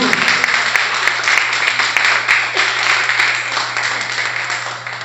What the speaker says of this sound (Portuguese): Vou dar uma salva de palmas para ele